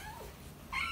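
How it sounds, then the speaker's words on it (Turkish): A hungry cat meows once, a short faint rising cry near the end of the brief moment, with no talk. "Bekliyor, miyavlıyor."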